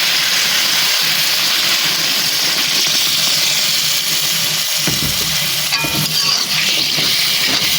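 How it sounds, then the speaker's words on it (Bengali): Hot water hitting fried spice paste for a duck curry sets off a loud, steady hissing sizzle, with a brief surge of bubbling and splashing partway through. "গরম পানিটা আমি দিয়ে দিছি।"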